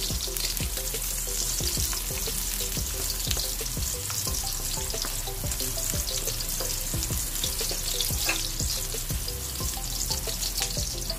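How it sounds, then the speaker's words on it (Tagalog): Onion frying in a pan, a constant loud sizzle with repeated scraping knocks from stirring at an uneven pace throughout. "Next naman ay ang ating sibuyas. Yan, haluin lang natin para mag-golden brown."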